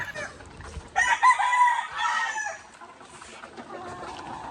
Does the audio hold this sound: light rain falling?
no